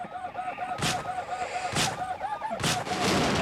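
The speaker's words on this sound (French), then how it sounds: "quand on touche les véhicules, ça explose." Vehicles blowing up in the Vegas Crime Simulator video game: three sharp, loud explosive bursts about a second apart, each with a quick broadband crack, over a continuous steady game soundtrack.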